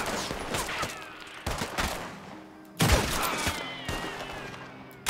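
Gunfire in Red Dead Redemption 2 during a shootout with Colm O'Driscoll: a steady run of close, punchy shots with echoing tails, one heavier blast near the middle, over a constant outdoor din. No speech.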